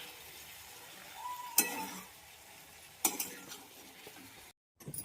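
Vegetables sizzle in hot oil after an Indian tempering is added, with sliced potatoes cooking nearby; soft frying hiss runs throughout, broken by two sharp scraping stirs of a spoon against the pan, close and clear with no talk.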